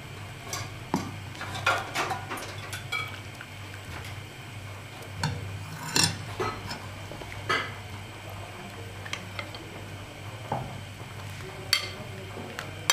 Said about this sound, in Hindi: ये मैं क्लोज से डिश आउट करके दिखा रहा हूँ मैं